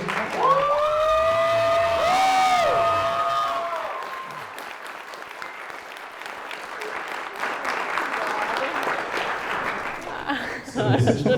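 Wedding guests applaud the bride and couple at a ceremony, clapping and a few cheers swelling in the room after a voice over a speaker system, with talk and laughter mixed in toward the end.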